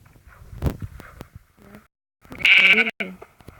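Sheep bleat in short calls, a few faint ones early and one loud, close, wavering bleat near the end, with some speech and rustling around it.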